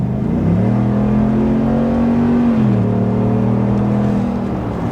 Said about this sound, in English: I have it in sport mode, by the way, too, so you can hear the exhaust.